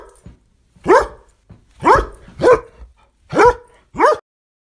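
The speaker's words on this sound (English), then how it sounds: "The dog is barking loudly." A dog barks loudly and close by, five sharp barks in an uneven rhythm with short pauses between them and no other sounds.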